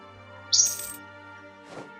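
A single bright chirp from a pet bird by a window with opened curtains, followed by a softer rustle, both fairly faint over a low steady hum.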